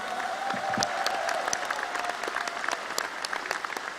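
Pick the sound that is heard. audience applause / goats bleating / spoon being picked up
audience applause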